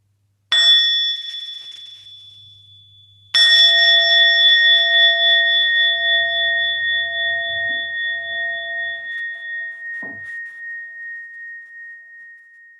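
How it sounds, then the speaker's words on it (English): A meditation bell is struck twice, once lightly and then more firmly, each strike leaving a clear, pure ringing tone that fades slowly over many seconds in an otherwise quiet room. "I'll invite a sound of the bell"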